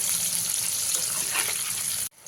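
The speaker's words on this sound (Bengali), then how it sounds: "আলুগুলোকেও খুব ভালো করে একটু লালচে কালার করে ভেজে নিতে হবে" Potatoes fry in hot oil in the same pan used before, a dense, close sizzle that runs steadily for about two seconds and then cuts off abruptly, with no talking.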